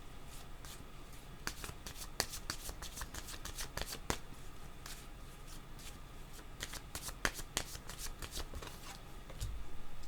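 Tarot cards are shuffled and drawn by hand, giving a steady run of crisp riffling and snapping card flicks close up throughout, with no talk over them.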